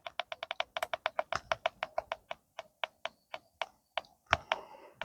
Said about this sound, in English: Those squeaky boots.